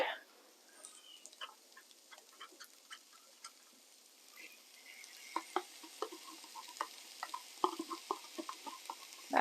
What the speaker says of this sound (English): we can probably deglaze that with the lemon juice actually